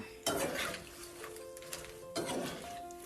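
Fried garlic ribbon pakkavada is scooped from the pan into a vessel. Two clattering scrapes of a utensil against metal sit over a faint sizzle, with quiet clinks in between.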